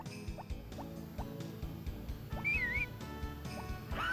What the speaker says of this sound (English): We've already also whistled the horse there by accident.